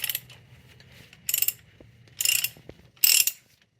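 A socket wrench ratchets as a fitting on a car's idle air control valve is loosened, giving four short bursts of clicking with brief pauses between, close and fairly loud over low background hum.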